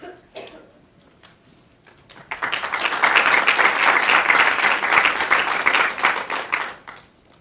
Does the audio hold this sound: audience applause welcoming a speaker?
yes